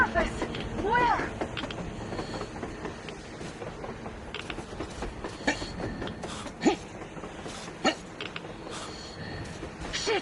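A train rolls by on the surface in a post-apocalyptic video game, with faint mechanical creaks and rattles and scattered clanks throughout.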